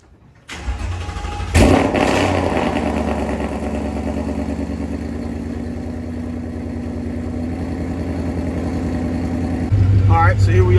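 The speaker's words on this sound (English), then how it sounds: "The car is extremely loud, a lot of people say, which I like." A loud car engine starts with a sharp crank and catch, then settles into a deep, rumbling idle that holds steady and close before revving up again near the end.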